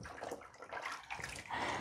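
Clear water splashing and running while a vinyl window track is rinsed, a close, fluctuating wash of water with brief surges and no talk.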